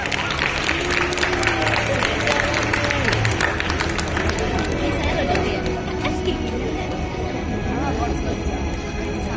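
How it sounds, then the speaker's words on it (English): An indoor audience at a science competition results ceremony applauds the bronze medalists. Steady, dense clapping is mixed with crowd chatter and cheering, then tapers off slightly toward the end. "Let's give them a round of applause, please."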